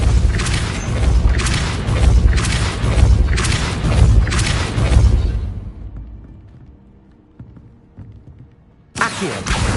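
A Depulso spell blast in the video game Hogwarts Legacy sounds as a series of loud, booming rumbles. A quieter lull follows, then another sharp burst at the end. No one speaks.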